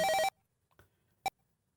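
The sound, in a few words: telephone dialing and ringing in Police Quest video game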